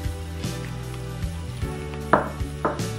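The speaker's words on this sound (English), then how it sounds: "The whisking is coming along nicely" A whisk stirs an eggnog mixture in a bowl, giving a soft steady scraping with a few sharper clinks against the side, quiet and close, over a low background hum.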